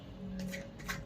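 Tarot cards being shuffled and drawn from a deck, a brief, faint riffle with two quick papery flicks close by, heard alone over a low steady hum.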